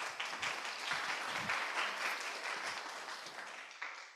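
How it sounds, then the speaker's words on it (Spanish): Audience applause at a youth seminar fills the room steadily for about four seconds, a dense wash of many hands clapping that slowly tapers toward the end with no talk over it. "Un aplauso."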